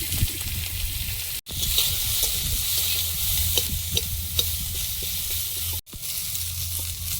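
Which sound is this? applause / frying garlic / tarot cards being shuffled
frying garlic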